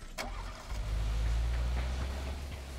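A car engine in PUBG, on the snowy Vikendi map, turns over and settles into a deep, rumbling idle. A quick ignition burst is followed by a steady, close low drone.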